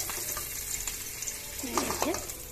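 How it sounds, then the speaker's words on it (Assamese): Eggs fry in oil with a little turmeric in a pan for an egg curry, a steady close sizzle with light stirring scrapes and a brief faint voice near the end. "কণীকেইটা ইয়াত দি দিছো, অলপ ফ্ৰাই কৰি লওঁ"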